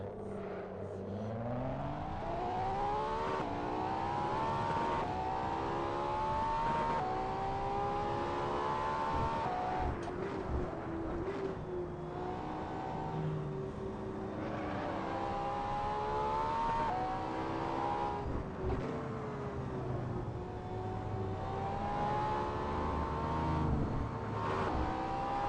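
A car engine in the Assetto Corsa driving game, played in VR, drones steadily while the revs climb and drop repeatedly through gear changes, a continuous whining motor tone with no speech over it.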